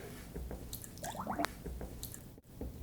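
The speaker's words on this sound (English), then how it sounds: "Just use your snake to clean them all out." A cleaning snake is worked through trumpet tuning slides soaked in soapy water, making soft, close squishing and dripping wet scrubbing noises at low volume.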